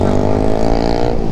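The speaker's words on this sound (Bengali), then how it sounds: "আজকে তোমাদের এর একজস্টের সাউন্ডটাও শোনাবো" Yamaha MT-15 motorcycle exhaust, a loud, close, steady engine drone with a rich low rumble that holds even throughout and eases slightly toward the end.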